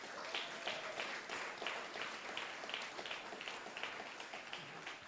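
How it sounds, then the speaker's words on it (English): Steady applause from a crowd at a Berkeley State of the City address, many hands clapping densely and continuously without a break. "So let's give that a round of applause for that."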